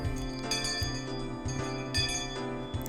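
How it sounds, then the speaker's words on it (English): A school bell in the game Higurashi When They Cry rings in bright, clinking metallic strikes that repeat about every half second, each chime sustaining and overlapping the next, loud and clear with no one talking. "School bell."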